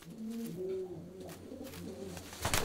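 Carrier pigeons coo repeatedly at a pigeon loft in the Ruhr Valley, a few soft, low throaty calls overlapping close by against a quiet background.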